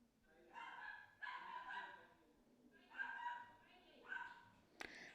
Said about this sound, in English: that's my dog, guys